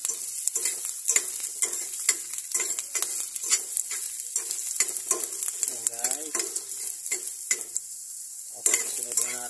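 Dry garlic frying in a pan for adobong siomai, with a bright continuous sizzle broken by frequent stirring clicks and scrapes up close.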